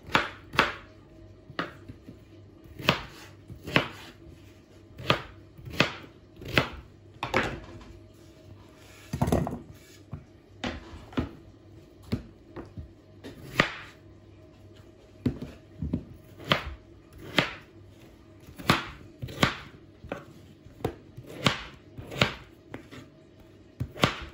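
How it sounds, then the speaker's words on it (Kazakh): A knife chops potatoes and liver on a board for a kara kuyrdak fried meat dish, with sharp, close, steady chops repeating every second or so, alone without talk. "Пока ол дайын болғанша картошкасын турап, бауырын турап қоямыз."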